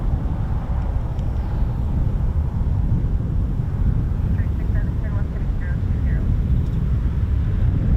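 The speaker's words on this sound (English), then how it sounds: "KC-135 Strato tanker, used for air-to-air refueling." A Boeing KC-135 Stratotanker air-to-air refueling aircraft at RAF Mildenhall gives a steady, broad jet engine roar that holds throughout at a constant loudness, with a faint voice talking over it.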